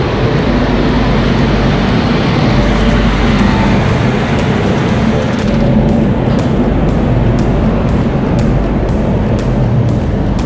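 Loud, steady rumble of a train at Secunderabad railway station, a broad continuous roar with faint clanks and no talking.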